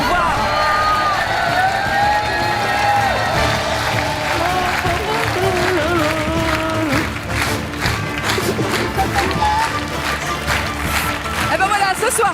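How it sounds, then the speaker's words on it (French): Studio audience on a French game show applauds and cheers as two winning contestants leave, a dense, loud, steady wash of clapping with whoops, voices and music mixed in throughout. "On va vous laisser repartir sous les applaudissements par là"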